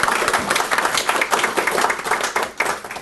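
An audience at a constitutional presentation breaks into applause, a dense continuous patter of many hands clapping close by for a few seconds.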